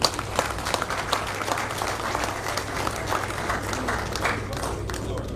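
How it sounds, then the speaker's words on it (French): Deputies applauding in a parliament chamber during a government investiture session, a sustained, even wash of many hands clapping with a low steady hum underneath. "si vous êtes content, il faut applaudir quand même"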